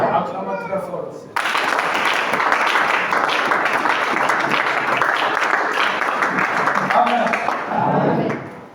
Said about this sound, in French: Acclamons très fort aussi.